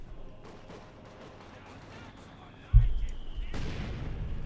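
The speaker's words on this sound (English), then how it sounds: "Field gun shoots, misses." A field gun fires in the World War II strategy game Company of Heroes 2 during a Wehrmacht versus Soviet match: a sudden heavy boom, then a second rumbling blast, both standing out against quiet battlefield ambience.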